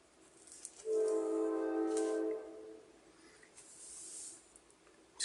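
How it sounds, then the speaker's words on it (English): A passing train sounds a steady horn blast for about a second and a half over a quiet background, followed by faint rail rumble. No one speaks. "Excuse the train."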